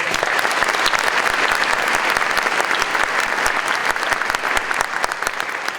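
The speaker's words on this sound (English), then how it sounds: "Can you please give them a round of applause?" Dense, sustained applause from a school audience in St. Louis, many hands clapping loudly and evenly for nearly six seconds with no voices on top.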